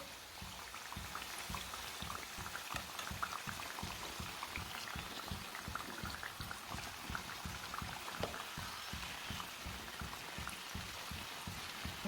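Samosas frying in hot oil in a Punjabi-style home kitchen, giving a quiet, steady fizzing crackle of dense small pops that continues evenly throughout without talk.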